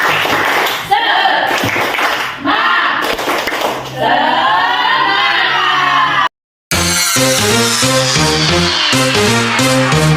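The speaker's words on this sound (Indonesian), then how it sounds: "Oke, tepuk semangat." A group doing a rhythmic spirit clap (tepuk semangat) at a morning school or office gathering in Indonesia, loud patterned claps with whoops and voices mixed in, broken by a brief silent gap before a louder rhythmic stretch.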